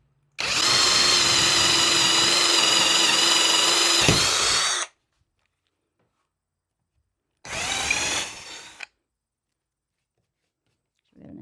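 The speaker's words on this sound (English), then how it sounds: "Now the next step it says to do is to drill a hole," A power drill bores a 3/8 inch hole through the swinging wooden door of a shed, a loud steady whine of about four seconds, then a second shorter burst after a pause.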